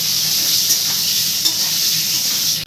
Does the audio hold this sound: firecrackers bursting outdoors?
no